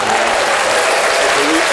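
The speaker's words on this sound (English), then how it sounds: "did we put the hand claps to that?" Dense hand claps like applause ring out steadily throughout, loud and close, with voices talking over them.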